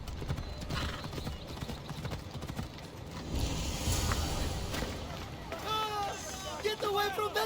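Horse hooves clip-clop at a steady gallop in Assassin's Creed Odyssey, with a neigh near the end, close and loud over game ambience while voices talk.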